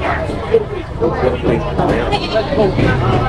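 Goats bleat repeatedly amid a noisy crowd at a goat market, their calls overlapping with constant background chatter.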